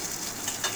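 Curry leaves crackle and sizzle in hot oil while being stirred, a brief close-up spatter for a tomato chutney tempering.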